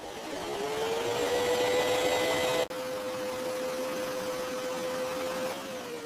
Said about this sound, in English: I vacuum the carpet.